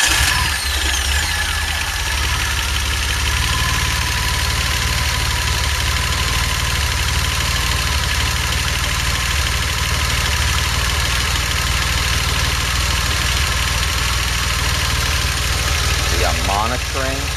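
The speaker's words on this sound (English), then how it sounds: "let's start the engine and see if I'm pulling a vacuum or building pressure" A DeLorean car engine idles steadily, a constant low rumble with a mechanical hum that holds evenly throughout, during a PCV system diagnosis; no clear start-up crank is evident.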